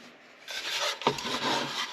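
Wood is trimmed for the interior of an Artesania Latina 1848 stagecoach scale model, short close rasping and rubbing strokes, soft at first and then busier, with one sharper scrape partway through.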